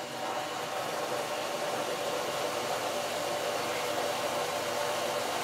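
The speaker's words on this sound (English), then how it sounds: "Turn on the pump." A 1.5 horsepower inefficient pool pump runs with a steady, even broadband whoosh and hum, fairly quiet and unchanging throughout, with no voices.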